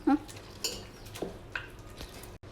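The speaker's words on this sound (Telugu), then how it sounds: "పప్పు అంతా ఉడికిన తర్వాత ఇలా ఒక మ్యాషనర్ తీసుకొని అంతా మ్యాష్ చేసుకోవాలండి" A masher works through cooked black-eyed pea dal in a pot, giving a few soft, close metallic clinks and taps spread over a couple of seconds against a quiet background.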